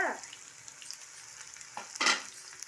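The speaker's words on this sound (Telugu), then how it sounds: "ఉల్లిపాయ ముక్కలు వేసేసి ఒక్క నిమిషం వేయించుకున్నాం బాగా" Onion pieces fry in a pan, a quiet sizzle broken by a few short scraping stirs, with one louder scrape near the end.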